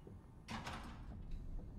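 A door opens in the video game FNAF Security Breach, making a brief mechanical sliding whoosh that sits fairly close, with quiet background hum before and after it.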